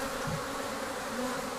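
Worker honeybees buzzing in a steady, dense drone, close and continuous for a brief moment with no voices.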